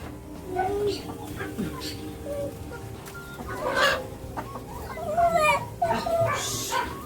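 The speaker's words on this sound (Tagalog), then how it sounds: "Ang kulit na manok na ito" A hen clucks repeatedly in short bursts, close by, while other birds chirp and a person talks in the background.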